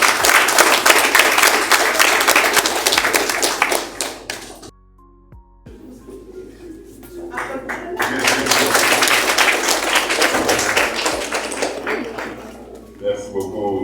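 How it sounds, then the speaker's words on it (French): Audience applause at a scientific research project launch event, dense clapping filling the room, breaking off briefly in the middle before swelling again and continuing steadily. "je voudrais spécialement qu'on puisse les applaudir encore une fois"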